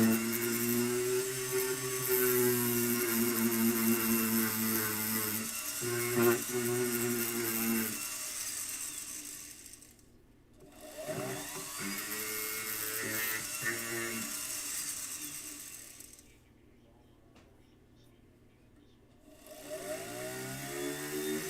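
A handheld rotary tool grinds and shapes a stone, a steady buzzing whine that runs in long bursts, stops twice for a few seconds and starts up again, loud and close.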